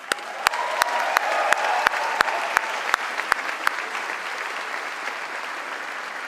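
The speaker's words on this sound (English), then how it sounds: "A warm round of applause for our wonderful musicians." Graduation ceremony crowd applauding the musicians at an MBA and EMBA graduation, a hall full of steady clapping with a few sharp nearby claps in the first half, holding on at moderate loudness.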